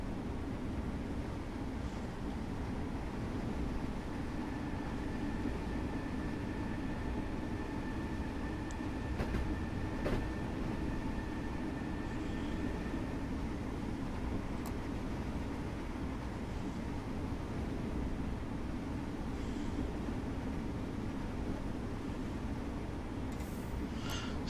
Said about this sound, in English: This is an electric train.